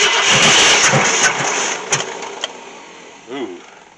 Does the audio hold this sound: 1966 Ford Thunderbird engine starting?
yes